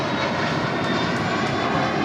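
A jet airliner at Los Angeles International rolls for takeoff on runway 25 right, a steady, loud broadband engine roar holding constant throughout with no voices.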